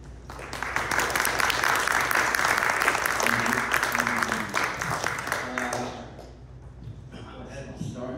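An audience welcomes speakers at a bookstore event with steady, full applause lasting around six seconds before it fades, after which a voice begins talking.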